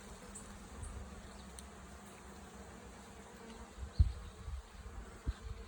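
Steady, dense buzzing of many honeybees around a hive as a nucleus colony is moved into a new box, with a couple of soft knocks or bumps partway through.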